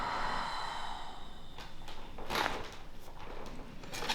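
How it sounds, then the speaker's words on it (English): A patient lying on a treatment table during a chiropractic session for shoulder and scapular pain draws a deep breath in and then blows it out, a soft, close airy exhale that is audible but not loud. "Big breath in and blow it out."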